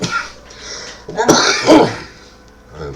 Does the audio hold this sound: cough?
yes